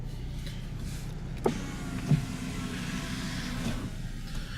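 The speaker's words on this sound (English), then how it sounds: "Just by the push of a button, you could put the top up and put it down." On a 2017 Mercedes-Benz SLC43 AMG convertible with a 3.0 L twin-turbo V6, the power folding top runs with a steady electric motor whir and two brief mechanical clunks partway through, heard up close.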